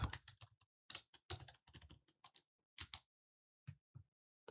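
Command being typed on a computer keyboard, a quick run of clicky keystrokes in uneven bursts with short pauses, close and fairly quiet with no talking.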